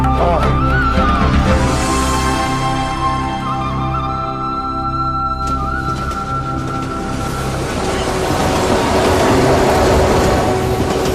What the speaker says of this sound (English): Another train leaves the station